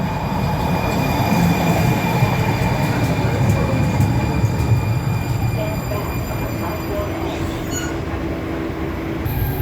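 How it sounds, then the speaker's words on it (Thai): A train pulling into a station for the Houston Livestock Show and Rodeo, a loud continuous rumble of rolling wheels with faint high squeals, steady and close. "Here come the train."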